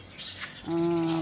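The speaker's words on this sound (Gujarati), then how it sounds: "કોયલના ટવકારા સંભળાય છે" A koel calls from nearby: one loud, sustained, clear tonal note that rises out of soft background noise partway through and holds to the end.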